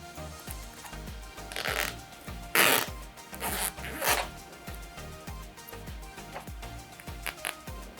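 Zipper slider pulled along the teeth of a double sanitary-pad holder pouch, giving repeated short raspy zips and rubbing bursts, close and fairly loud, with no talking.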